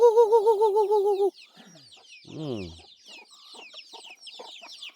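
Chickens cluck at a farm, a loud warbling call at the start followed by a downward-sliding squawk and a run of softer, scattered clucks and chirps, close by with no talking.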